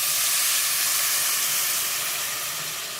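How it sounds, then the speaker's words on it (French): Hot vegetable broth poured into a pan of pumpkin risotto, heard as a loud, steady steamy hiss that continues without a break and eases off slightly toward the end. "on va commencer à introduire le bouillon de légumes bien chaud"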